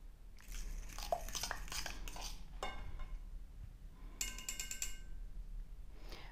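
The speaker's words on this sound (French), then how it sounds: "on va casser nos œufs et on va commencer à remuer tout ça" Cracked eggs stirred in a bowl for a spinach tart, an irregular scraping and clinking of utensil against the dish, fairly faint and close, with no talking.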